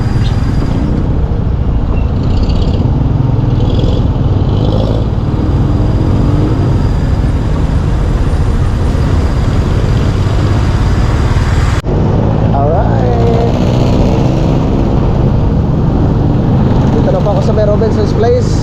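Steady road traffic near the Tambo exit, a continuous low rumble of cars, buses and trucks with a brief air-brake hiss, while a voice talks over it.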